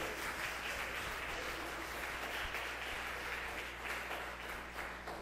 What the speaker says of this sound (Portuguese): Vamos receber o profeta aplaudindo a Jesus?